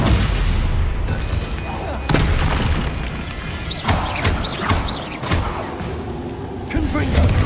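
A Stupefy spell cast in the video game Hogwarts Legacy, with loud booming blasts and crashes over dense, noisy battle sound. A voice is heard over the noise.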